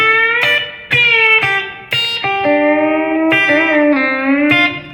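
An electric guitar plays a blues lick in G in a steel-guitar style, with a string bent from D up to E. Several loud plucked notes ring close and clear, then a sustained note glides upward and wavers before the phrase ends.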